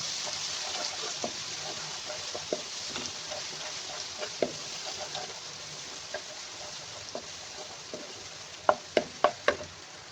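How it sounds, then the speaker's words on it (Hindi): Garlic and ginger paste fries in a pan for a Pakistani cauliflower and meat curry, giving a steady soft sizzle, with occasional spoon taps on the pan and a quick run of knocks near the end. "1 बड़ा खाने का चम्मच लहसुन और अदरक का पेस्ट लिया है, वो ऐड कर दूँगी मैं, और इसको हम 3 से 4 मिनट अच्छी तरह से भून लेंगे"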